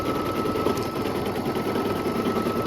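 A machine embroidery unit runs a placement line for a ghost design, a loud steady rapid stitching whir with constant mechanical chatter and no pauses.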